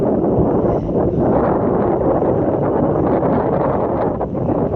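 Strong wind buffeting the microphone at a river mouth in the Sundarbans while waves rock a small fishing boat, a loud continuous rumbling roar with gusty surges.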